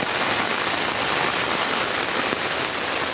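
Rain falls steadily on a rainy day, a continuous even hiss of drops on surfaces at moderate volume with no talking.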